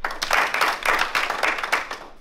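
Mechanical applause rings out at an award ceremony, a few bursts of dense, rhythmic clapping that swell and fade in regular waves, close and fairly loud, with no voices over it.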